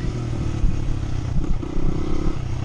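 A motorcycle engine idles steadily while warming up in the woods, a close, rough low rumble with a few clattering bumps and no talk.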